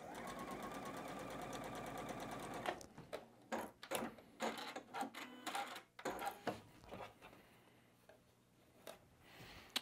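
A sewing machine stitches fabric seams in a chain-piecing run, a fast steady whirr for a few seconds, then stops and gives way to soft handling clicks and fabric rustles.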